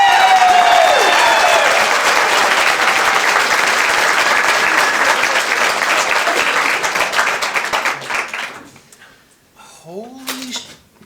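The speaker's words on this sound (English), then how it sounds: "rousing applause for this" Rousing applause from a summit audience at the Keep Knoxville Beautiful Summit, loud and dense for about eight seconds. It then thins out and fades, with a few voices and calls breaking through at the end.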